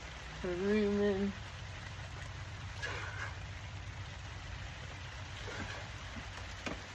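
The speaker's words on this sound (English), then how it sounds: "It's raining" Steady light rain falls around a farmyard as a soft, continuous hiss, with a goat's short bleat near the start over the wash.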